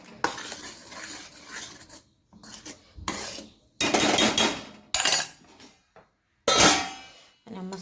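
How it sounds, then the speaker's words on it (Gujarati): Tomato curry stirred in a pot, with loud metallic scraping bursts and clanks of utensil against the vessel separated by brief silences, close by. "અને હલાવીને પાછું ઢાંકણ ઢાંકી દઈશું."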